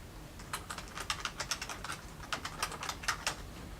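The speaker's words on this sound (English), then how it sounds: "I want to type in Crane and Associates" Steady typing on a computer keyboard, with a quick, uneven run of crisp key clicks lasting several seconds, close and clear with no voices.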